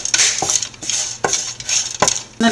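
Crushed cinnamon, clove and cardamom go into hot oil while cooking Kuttanadan duck curry, heard as sharp metallic scrapes and clinks of a spoon against the pan in irregular bursts with a faint sizzle underneath.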